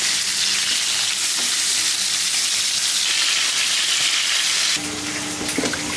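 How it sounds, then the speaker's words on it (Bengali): Eggplant slices fry in hot hilsa fish oil, a steady loud sizzle running throughout with no talk, briefly softening near the end as the pieces are moved. "ইলিশ মাছের তেলেই বেগুনটা ভাজবো"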